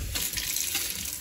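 Water from a sink tap runs in a steady, close, hissing stream inside a converted bus, with no talk over it.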